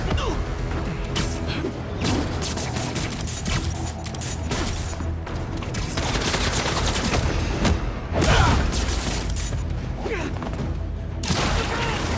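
Sustained gunfire from Kraven's fighters in Spider-Man 2 crackles in dense bursts and rapid volleys, with crashes and booms mixed in. Shouting is also heard.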